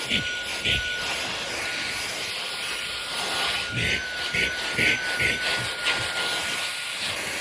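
An iXlion cordless stick vacuum runs with its crevice attachment pushed down into couch cushions, a steady close high whine with bumps and scrapes as the nozzle moves.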